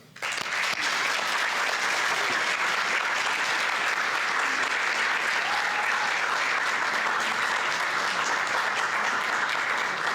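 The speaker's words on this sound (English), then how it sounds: "please join me in one more round of applause for them" A school board meeting audience gives a sustained round of applause for commended students and educators, steady dense clapping filling the room at full volume throughout.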